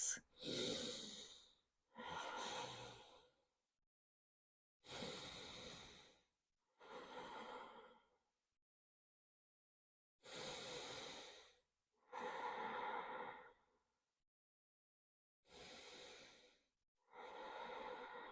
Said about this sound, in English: 5 nice deep breaths.